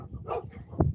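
Dogs barking outdoors, a couple of short close barks with a whimpering edge, one near the start and a sharper one near the end of a brief moment.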